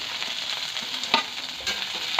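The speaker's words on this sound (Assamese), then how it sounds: "দি পিঁয়াজখিনি অলপ ভাজি ল'ম" Chopped onions fry lightly in a pan for homemade samosas, a continuous soft sizzle broken by a few scraping stirs of a spoon against the pan.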